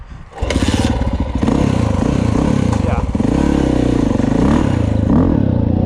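After a brief clatter, a dirt bike is kickstarted and its engine catches, then runs loud and close, the exhaust barking in a rough, rowdy, steady rhythm.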